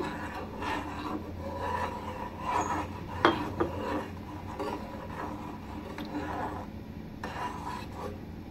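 A spoon stirs milk halwa with curd in a cooking pan, giving a faint, continuous scraping and rubbing with a couple of light metallic clinks.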